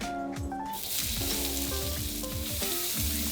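Onion frying in oil in a hot pan, a loud, steady sizzle that fills the whole clip, with occasional stirring clatter and no talking.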